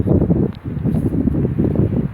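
Strong gusts batter the microphone at a lakeside campsite, with loud, rough rumbling buffets coming in uneven surges and nothing else heard.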